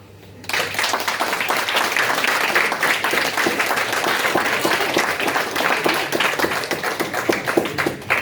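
Audience applause greeting the three judges at a devotional bhajan singing competition, bursting in after a brief quiet start and continuing as steady, dense clapping from a sizeable crowd for about eight seconds.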